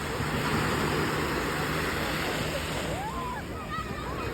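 Sea waves washing in at the seaside on a fine day, with a steady, loud rush of surf and wind close by and a few faint distant calls near the end.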